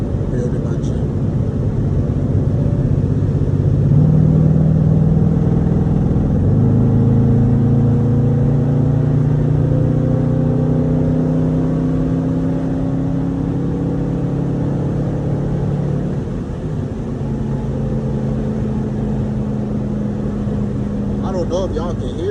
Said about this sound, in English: I don't know if y'all can hear it, the engine, or y'all can hear the wind, because I got my windows rolled down to get some air